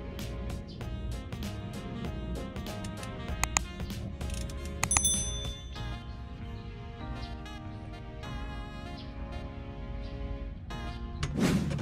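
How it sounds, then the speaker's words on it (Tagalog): A 24mm socket wrench ratchets steadily while loosening a transmission filler bolt, a fast clicking pawl with a few sharper metallic clanks partway through, close and alone. "Para matanggal ang filler bolt, gamitan ito ng 24mm socket wrench."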